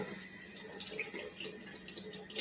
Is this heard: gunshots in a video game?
no